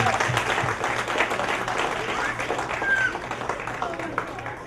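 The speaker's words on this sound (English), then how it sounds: "I would like to request now the Canadian ones to big round of applause for the American ones who have come all the way just on our invitation" Applause breaks out for visiting American guests at a 2008 get-together, a steady wash of clapping that runs throughout, with voices talking over it.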